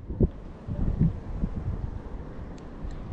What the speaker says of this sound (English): That wind is really bad, guys. It doesn't even let me cast.